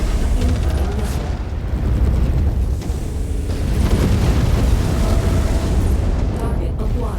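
Incoming missiles strike during MechWarrior 5: Mercenaries mech combat, a heavy rumbling barrage of booms and bursts that rolls on continuously, loud and close, with radio-style voice callouts over it.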